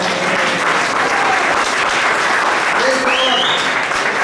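An audience at a church healing service claps together in a steady, dense wash that continues for the whole stretch at even loudness, with a voice briefly heard over it.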